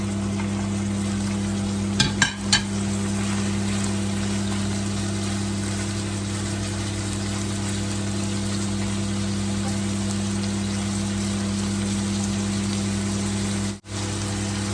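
Chicken, capsicum and snow peas stir-fry for a green curry dish in a pan, giving a loud, steady sizzle that runs throughout. A few brief clatters come early, and the sizzle cuts out for a moment near the end.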